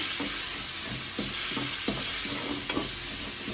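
Tomatoes and tamarind fry in a pan with spice powder while a spoon stirs them. The soft, continuous sizzle carries quiet scraping strokes that repeat every half second or so.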